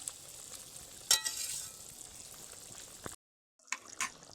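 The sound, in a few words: farsa fish tel jhal curry boiling in pan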